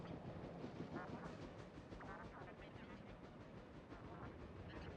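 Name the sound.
train running at night in video game Factorio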